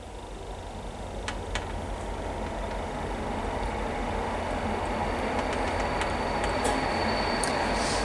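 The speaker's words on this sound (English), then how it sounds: "a loud train just suddenly goes past as well" A loud train rushes past near a cider mill outside Braintree, a broad steady roar that swells and holds throughout with faint metallic squeals and clanks over it, no voices.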